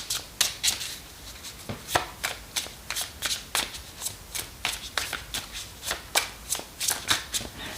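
A deck of playing cards is riffled and shuffled again and again by hand, giving crisp, rapid bursts of flicking and snapping in an uneven rhythm, close and clear with no talking.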